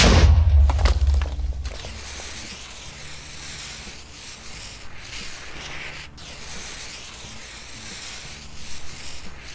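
Meteor crashing down in Minecraft: a heavy, loud boom and thud at the start, followed by a long rumbling, hissing aftermath that lingers steadily with faint crackles.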